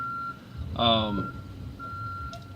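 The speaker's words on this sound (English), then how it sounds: "Any truck driver out there's gotta hate having to sit and listen to somebody beeping" A truck's reversing alarm beeps in a steady tone over low engine rumble, with a brief rising whine in the middle.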